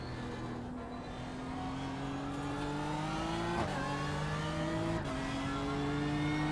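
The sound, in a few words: GT3 race car engine in iRacing video game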